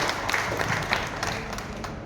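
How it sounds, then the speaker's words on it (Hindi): An audience applauds a politician at a stage event in Darbhanga, a steady patter of many hands clapping at moderate volume, somewhat distant and continuous throughout. "एक बार जोरदार तालियां माननीय विधायक श्री जीवेश कुमार जी को"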